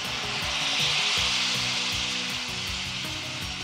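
Water hits sautéed masala in a hot pan and sets off a loud, steady, broad sizzle throughout, with a low rumbling bubbling underneath.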